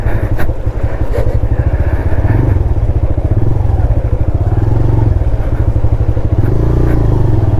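A motorcycle engine chugs steadily in a close, loud, continuous throb while the bike rides over a badly broken mountain road in Nepal, with occasional rattles and clatter from the rough surface.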